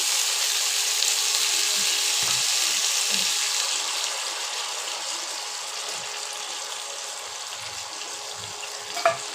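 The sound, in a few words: chicken frying with capsicum, onion and carrot in a pan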